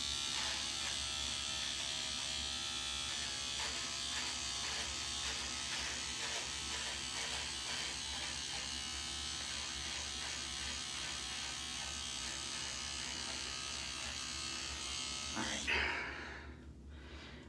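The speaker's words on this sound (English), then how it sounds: "take my little trimmer here and just take off the edge a little bit down here" A small electric trimmer buzzes close by as it tidies the edge of a beard, a steady electric hum that runs for most of the time and then cuts off near the end.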